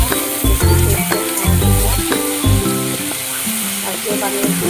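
Cumin paste for a fish curry sizzles and fries loudly in a pan, a steady crackling hiss broken by the rhythmic scrape and clatter of stirring, with no voices.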